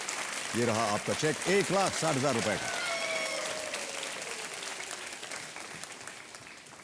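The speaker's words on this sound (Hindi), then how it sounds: "तालियां बजती रहनी चाहिए।" A television quiz show studio audience applauds steadily, a dense sustained clapping that fades gradually, while a host speaks over the start.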